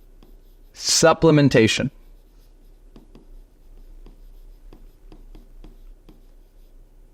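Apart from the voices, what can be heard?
writing by hand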